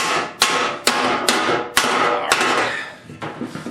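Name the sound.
hammering metal at a forge, making fender wells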